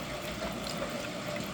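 Water pours into a rock tumbler barrel partly filled with bloodstone and other stones, a steady rushing splash heard close up for a moment without any speech.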